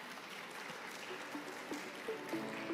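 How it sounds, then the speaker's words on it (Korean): Steady applause fills a conference hall as an AI lab speaker is welcomed to the stage, an even wash of many hands clapping with a few faint tones underneath. "다시 한번 큰 박수로 맞아주시기 바랍니다"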